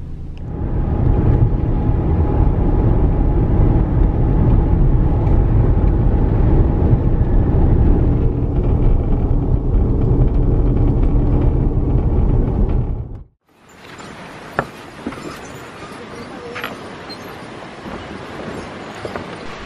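Car driving toward Manzanillo National Park in Costa Rica, a loud steady interior road rumble that cuts off abruptly, followed by quieter outdoor ambience with faint knocks.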